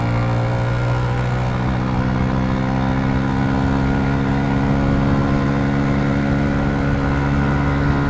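A manual motorcycle engine revs hard while climbing uphill, a loud, steady, close drone with strong harmonic whine that holds without a break through the shift.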